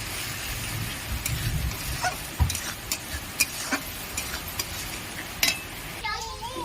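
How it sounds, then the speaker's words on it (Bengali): Spice paste with poppy seed and cashew paste fries in a pan for Bengali rui posto, a low sizzle broken by sharp, irregular spatula scrapes and taps, with a brief voice near the end. "আর একটু ভালো করে মশলাটা কষে নেব"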